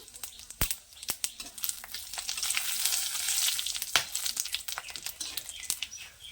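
Whole cumin seeds and chillies frying in hot oil for a taro dish, a steady crackling sizzle with sharp pops, close and fairly loud, with faint bird chirps in the background.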